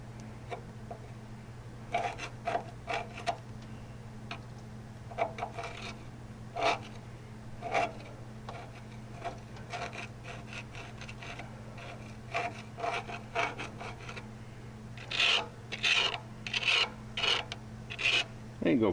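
A scraper rasps in repeated short strokes at plugged drain slots on the final drive of a John Deere MC crawler tractor, scratchy irregular scrapes over a low steady hum, growing faster and sharper near the end.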